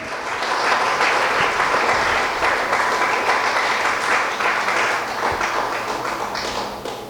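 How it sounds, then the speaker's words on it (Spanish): A church congregation gives a long, strong round of applause during a Sunday worship service, dense and sustained for several seconds before tapering slightly. "Le damos un fuerte aplauso al Señor."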